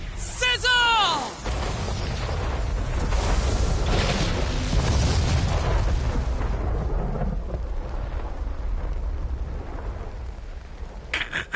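A Sizzle fire spell explodes in a Dragon Quest battle, a loud rumbling blast that swells and roars on for several seconds before slowly fading, following a brief shouted voice.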